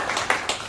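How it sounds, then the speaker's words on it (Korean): Audience clapping at a Korean political gathering: three brief bursts of hand claps rising and falling in quick succession, fairly close and moderate in volume, with no voices over them. "큰 박수 부탁드리겠습니다."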